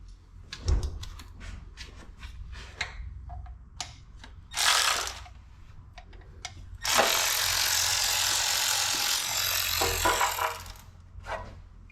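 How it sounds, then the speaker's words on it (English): A ratchet works the oil pan bolts on a 1989 R3500 truck engine: scattered close clicks and metallic knocks, a short rasping burst, then a long steady whirring rush lasting several seconds. "Get this oil pan off, handful of bolts."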